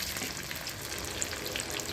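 Marinated chicken frying in a kadai with plenty of oil, a dense, even hiss of sizzling that holds steady and close throughout with no voices.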